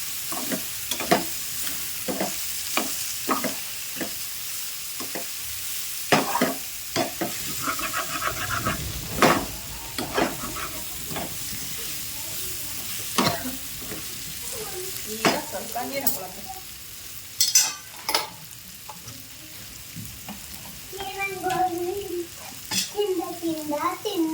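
Brinjal and onion frying in oil, with repeated sharp scrapes and clacks of stirring over a continuous sizzle, close by, a voice heard briefly toward the end.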